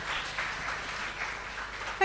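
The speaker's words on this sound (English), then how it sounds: "Round of applause." Applause from a small audience at an in-person community meetup, steady and moderate, running the full length at some distance with a brief louder burst at the end.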